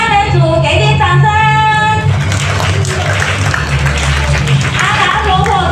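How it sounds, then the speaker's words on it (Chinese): A church congregation at a Christmas worship service claps for a children's trio. A voice speaks first, then scattered clapping swells over low background music. "智多星三人组，给点掌声！"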